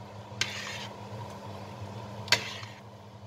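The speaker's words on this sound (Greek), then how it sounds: "Ανακατεύω" A spoon clinks twice against a pot of chicken soup with vermicelli as it is stirred, each sharp metallic tap followed by a brief scrape, over a low steady simmer in a quiet kitchen.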